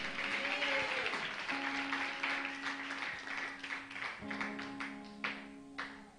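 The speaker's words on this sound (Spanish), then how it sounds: "Dele un fuerte aplauso al Señor." A church congregation claps during a Spanish-language service, steady applause mixed with sustained organ-like musical tones throughout.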